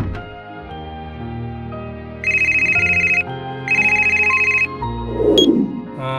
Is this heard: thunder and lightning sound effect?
no